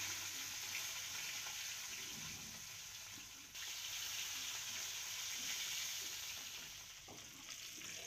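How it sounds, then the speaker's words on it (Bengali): Parshe fish fry in hot oil in a wok, a faint, steady sizzling hiss that runs without pause, with no one speaking. "এখন আমি একে একে মাছগুলো ছেড়ে দিব আর মাছগুলোকে ভালো করে"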